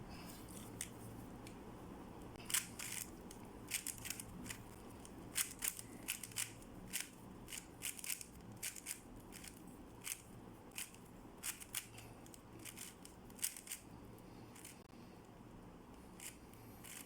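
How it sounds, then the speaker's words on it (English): A Rubik's 4x4 plastic cube being scrambled, with quick, irregular bursts of crisp clicking and clacking from the turning layers, close and steady throughout, with no talk. "let's try another shuffle"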